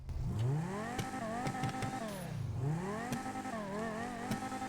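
A Banshee sports car engine in GTA Online revs up and down repeatedly, pitch rising and falling in swoops over a steady loud drone, with a few sharp clicks.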